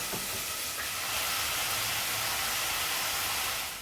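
Onions and garlic fry in sunflower oil in a pan for dhal, giving a steady, close sizzling hiss that holds evenly throughout with no talking.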